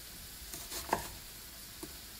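Pork stir-frying with carrots and vegetables in a pan, a soft, steady sizzle with a few light utensil clinks, quiet and without talk.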